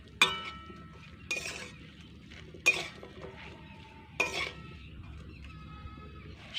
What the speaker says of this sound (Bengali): সমস্তটা মিশিয়ে নিচ্ছি